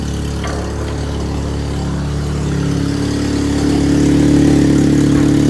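A Chevrolet S10 pickup engine idles steadily right after an oil change, a close, continuous mid-low hum that swells slightly louder toward the end, with no talking over it.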